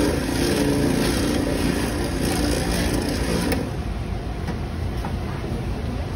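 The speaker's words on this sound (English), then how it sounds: "you're gonna take it to the flurry mix station and you're gonna mix for" A McFlurry mixer at a McDonald's mix station blends M&M candy into ice cream, a loud continuous motor whir that runs steadily for several seconds and then drops slightly in level.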